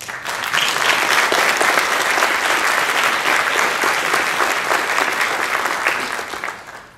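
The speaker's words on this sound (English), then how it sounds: "That's your applause." Audience at a Konami press conference at gamescom 2011 in Cologne applauds steadily for several seconds, a dense crowd clapping that fades out at the end.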